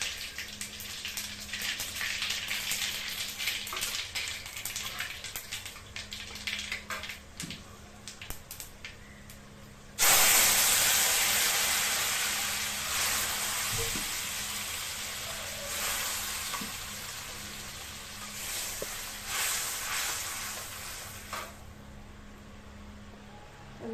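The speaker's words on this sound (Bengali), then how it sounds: "এখন সর্ষের তেল দিয়ে দিয়েছি, তার মধ্যে 2টো শুকনো লঙ্কা দিয়ে দেবো" Dried red chillies and black mustard seeds sizzling in hot mustard oil, a steady close frying hiss that jumps louder partway through and then slowly eases, with no talking.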